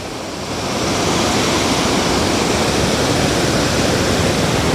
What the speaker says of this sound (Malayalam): അതുകൊണ്ട് അവിടെ വെള്ളം തുറന്നു വിട്ടിട്ടുണ്ട്